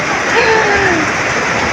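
Heavy typhoon rain pours down in a loud, unbroken hiss, with a faint voice-like tone briefly rising in the middle of the dense downpour.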